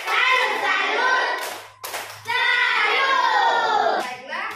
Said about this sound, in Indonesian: Tepuk salut buat kelompok C yang sudah tampil.